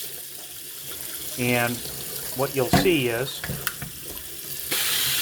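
Lukewarm tap water runs slowly over a pressure cooker to release its pressure, a steady broadband hiss and splash that continues throughout while a person talks in the middle.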